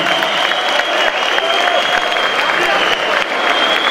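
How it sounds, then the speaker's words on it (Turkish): An audience in a community association hall in Istanbul's Anatolian side applauds throughout, a loud, sustained wash of clapping with a faint crowd murmur beneath. "hadi güzel bir alkış onun için de"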